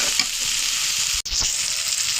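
Spices are stirred in a pan with dried ribbonfish and onion stalks, giving a continuous loud frying hiss broken by a few spatula scrapes and one brief pause.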